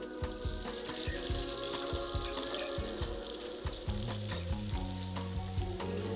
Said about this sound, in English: Dollop of butter, a swirl of oil, and as soon as it sizzles,